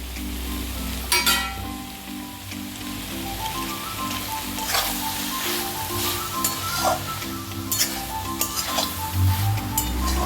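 Lentil dumplings (bori) hiss and sizzle in hot oil in a pan of cauliflower stem chorchori, a steady close frying crackle with occasional stirring clinks and scrapes.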